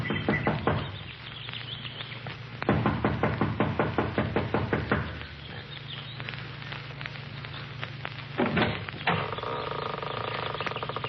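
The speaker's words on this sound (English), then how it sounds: "She knocks impatiently" Impatient knocking on the front door of a mountain lodge comes in quick rapid bursts of close, sharp raps, several rounds separated by short pauses.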